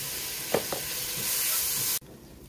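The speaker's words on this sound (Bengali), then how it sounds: "একটু রসুন দিয়া ভাজা, তারপরে একটু আদা দিয়া দেই" Garlic and ginger fry in a pan with a loud, close, steady sizzle and a few stirring scrapes. The sizzle cuts off abruptly after about two seconds.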